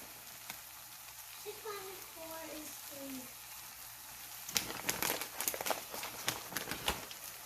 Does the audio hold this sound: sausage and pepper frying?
yes